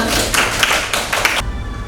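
Brief burst of applause from an audience of school staff at an Indonesian vocational school gathering, a few seconds of clapping under room noise before it cuts off abruptly.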